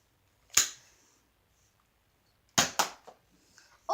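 Small-calibre gunshots at a shooting range aimed at cans: one sharp crack early, then two close cracks later, with brief quieter clatter after, no talking.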